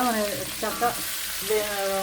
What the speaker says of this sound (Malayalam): നമ്മൾ ചിക്കൻ വറുക്കുന്ന പോലെ വറുത്തിട്ടാൽ മതി.